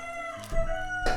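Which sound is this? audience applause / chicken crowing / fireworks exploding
chicken crowing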